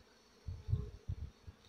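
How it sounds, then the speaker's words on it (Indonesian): Bees buzz in a wild mango orchard, a few low droning passes swelling and fading close by over quiet outdoor background. "aku mendengar suara-suara lebah"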